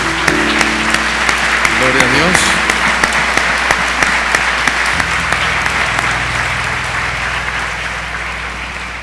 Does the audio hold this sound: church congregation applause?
yes